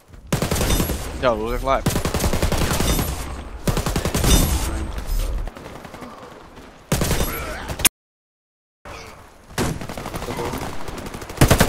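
Rapid bursts of gunfire from a gun in the Brain Smasher video game crackle loudly and intermittently, mixed with someone talking and broken by a brief silent gap.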